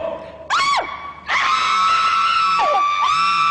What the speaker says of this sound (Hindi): जब मैं गो बोलूंगा चीखते रहना जब तक मैं स्टॉप ना बोलूं।